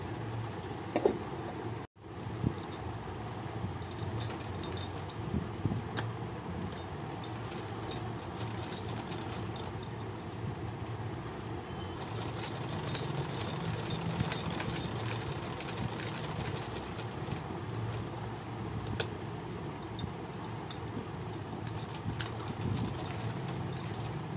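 A sewing machine runs steadily for most of the stretch, stitching a small doll dress for a Laddu Gopal figure, its motor whirring as a continuous mid-level hum with no talking over it.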